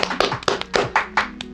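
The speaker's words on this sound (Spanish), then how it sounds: "Un aplauso, por favor, para ella con lo que estamos acá." Brief bursts of hand clapping for a guest on a Peruvian political interview program, a few loud, irregular claps spaced across a short moment, close and dry.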